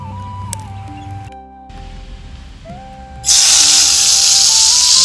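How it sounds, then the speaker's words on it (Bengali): Marinated puti fish frying in hot oil, a loud, steady sizzle that starts abruptly midway and continues to the end, preceded by quieter tonal sounds. "এই দেখো কি সুন্দর মাছ ভাজা হচ্ছে"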